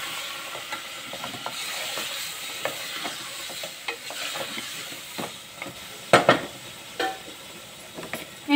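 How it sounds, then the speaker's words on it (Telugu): Mutton is stirred into masala in a pan for a Rayalaseema mutton curry, with repeated scraping spoon strokes over a steady sizzle and a few sharper clanks near the end. "ఇప్పుడు ఈ మటన్ ఇందులో వేసేసుకోవాలి. కలుపుకోవాలి చక్కగా."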